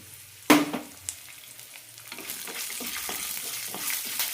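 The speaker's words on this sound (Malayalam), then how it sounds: "നന്നായി വഴറ്റിയെടുക്കാം വെളുത്തുള്ളിയെല്ലാം കുറച്ച് ചുവന്ന് കിട്ടണം അതുവരെ വഴറ്റാം" Garlic cloves, black pepper and cumin seeds sautéing in a pan for peanut idli podi, a sharp clatter as they go in, then a steady soft sizzle with light stirring scrapes, close and without voices.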